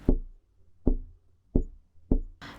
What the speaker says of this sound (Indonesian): Saat ini dia sedang duduk sambil mengetuk-ngetukkan jarinya di meja.